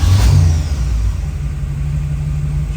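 A 1957 Chevrolet Corvette with a fuel-injected engine catches and fires up, settling into a steady, loud, rumbling idle close by.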